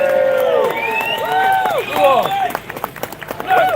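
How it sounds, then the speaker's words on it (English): A street rally crowd in Manchester bursts into cheering and scattered clapping, with voices calling out over the noise and a rising burst of sharp claps near the end. "Let's have a massive round of applause for everyone who's made this a spectacular day"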